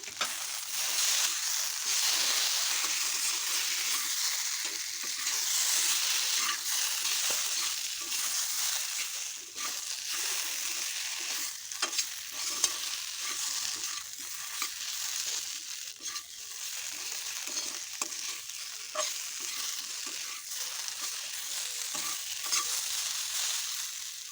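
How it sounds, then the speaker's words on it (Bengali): Spiced potato masala stirred and fried in a pan for a kofta curry, a steady close sizzle with repeated scraping stir strokes throughout, no talk. "আলু সহ মশলাটাকে আমার কষানো হয়ে গেছে"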